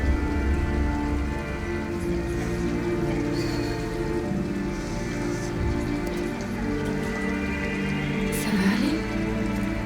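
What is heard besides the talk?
rain falling in the video game Detroit: Become Human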